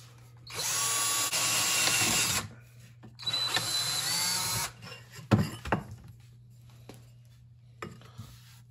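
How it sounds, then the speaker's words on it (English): A power drill whines steadily through two long bursts drilling holes in a 1910-14 Flanders 4 motorcycle muffler part, followed by a few clanks and rattles of metal, then quiet. "we'll drill a bunch of holes."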